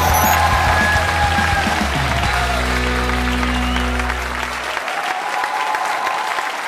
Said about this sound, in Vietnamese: hãy dành một tràng pháo tay để chào đón giám khảo khách mời, giám khảo Lý Hùng.